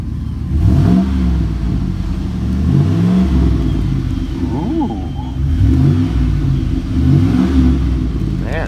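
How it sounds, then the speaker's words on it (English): A 2013 Chevrolet Silverado Z71 5.3 pickup revs repeatedly through a deep, throaty aftermarket exhaust, rising and falling in several loud pulls up close, with a steady idle rumble between. "That's a great sounding exhaust."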